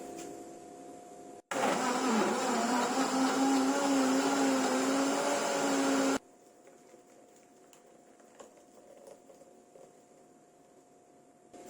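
Blender whirring yeast for onion bread dough, a loud steady motor roar starting abruptly and running for about five seconds, then cutting off to quiet room tone, no voices.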